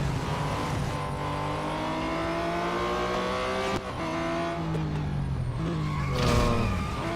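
Race car engine in the mobile racing game Real Racing 3, a loud continuous roar with shifting revs, a brief dip and gear change midway and a surge near the end, with no talk over it.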